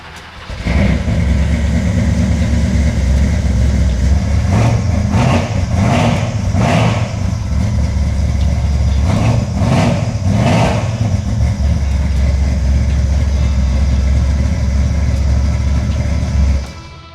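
Old vehicle engine unused for a year cranks briefly then catches and idles, a loud, close, steady rumble with a few rhythmic surges in the middle before cutting off at the end.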